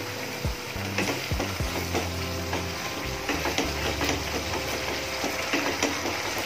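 Gravy for a fenugreek (methi) and potato dish is stirred in a hot pan, with a steady sizzle and repeated spoon scrapes against the metal heard close up, no voices.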